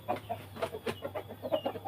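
Soft, close clucking from a pair of breeding chickens, a rooster and a hen, a string of short repeated clucks in an uneven rhythm against a quiet background.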